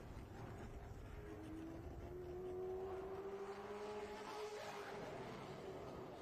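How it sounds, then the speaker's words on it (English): A pro late model race car qualifying at Cordele Motor Speedway, its engine a steady mid-distance drone with a rising and falling pitch as it laps, heard over constant track ambience. "Blaze Rutherford trying to get that 5 car up to speed"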